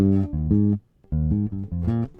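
Bass line from a song played on bass guitar, a syncopated run of clear plucked notes with a short pause in the middle, close and alone.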